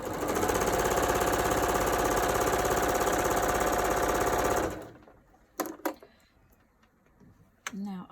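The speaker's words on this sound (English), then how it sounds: "we're just going to stitch at a 1/4 inch down that side" A sewing machine runs steadily for about four and a half seconds, stitching a quarter-inch seam on quilt units, loud and continuous, then stops, leaving a few faint handling clicks and a brief voice.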